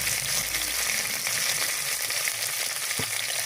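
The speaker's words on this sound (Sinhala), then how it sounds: "දෙකට පලාගත්ත අවු මිරිස් ටික දාලා ඒක තෙලෙන් තඹ ගන්නවා." Split green chillies fry in hot oil for a kangkung devilled dish, producing a dense, steady close-up sizzle with a single sharp knock near the end.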